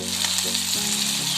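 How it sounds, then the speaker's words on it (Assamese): Pork and potatoes frying in hot oil with onions in a kadai, giving a steady close sizzle with a low hum beneath it over a short stretch. "মই মাংস আৰু আলুখিনি এনেদৰে ভাজি আছোঁ"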